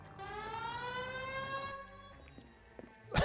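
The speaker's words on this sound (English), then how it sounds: "Hit the siren." A police car siren wails steadily in an LAPD detective video game, the rising and falling tone loud and continuous for most of the moment before cutting off, with a sharp thump near the end.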